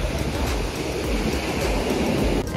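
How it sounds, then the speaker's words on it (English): Ocean waves breaking on a surf beach in Guanacaste, Costa Rica, a loud continuous roar of surf with wind noise and no speech. "The waves look pretty nice."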